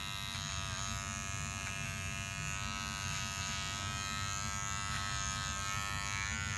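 Electric hair clipper running steadily during a curly-haired boy's haircut, a close, continuous buzzing hum with a faint tonal whine and small variations as it works, no speech.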